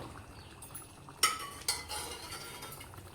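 Mutton with pumpkin being stirred in a pot, soft scraping and stirring with two sharp utensil knocks against the pot, close and fairly quiet, no voices.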